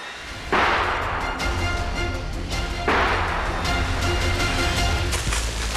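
Two loud, sharp gunshots from boar hunters in Japan, about two seconds apart, each with a long rolling echo, over a constant outdoor rumble.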